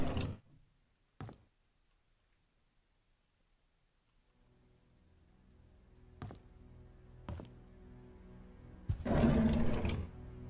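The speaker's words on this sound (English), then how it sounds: "Every time the drawers open and close, it sounds like a lion growl." Drawers opening and closing in the Painscreek Killings video game make growling, lion-like roars: a few short, sharp bursts separated by silence, then a longer, louder rumbling growl near the end over a low hum, with no talking.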